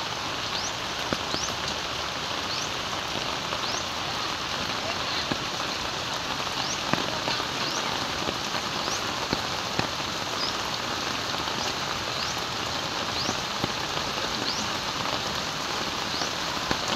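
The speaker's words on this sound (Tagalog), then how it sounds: "Biglaan lang yung ulan." Sudden rain during a typhoon thunderstorm in Dasmariñas patters steadily and densely on surfaces nearby, a constant hiss of drops with scattered sharper splashes throughout and no talk.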